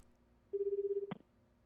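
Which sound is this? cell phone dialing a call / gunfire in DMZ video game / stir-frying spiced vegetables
cell phone dialing a call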